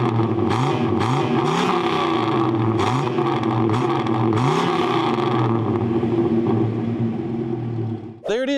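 The 8-liter V10 of a 1999 Ram 2500 Laramie pickup revs hard several times, each rise and fall loud and close. It then settles into a steady drone, and a brief burst of noise cuts in at the end.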